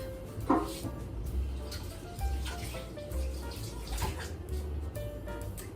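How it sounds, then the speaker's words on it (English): Kitchen tap water runs steadily as something is rinsed under it while making classic potato salad, a soft continuous splash with faint clinks, fairly quiet and close. "So let me just rinse this off."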